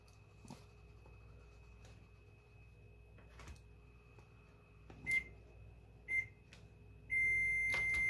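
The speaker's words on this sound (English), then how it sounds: "That's the timer for the rice." Kitchen timer beeping while rice cooks, three short electronic beeps followed by a longer sustained beep, clear and close over a quiet kitchen hum.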